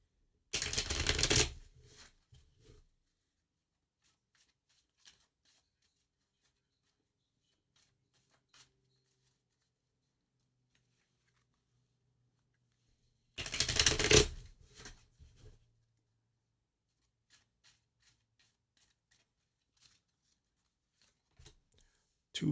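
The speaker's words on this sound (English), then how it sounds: "so I'm shuffling these 9 times" Playing cards shuffled during a live card-reading stream, two separate bursts of dense riffling far apart in time, each a couple of seconds long and fairly close, with near silence and faint small taps in between.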